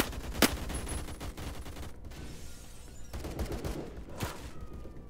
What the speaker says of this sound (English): The noises of the gunshots around me make me so anxious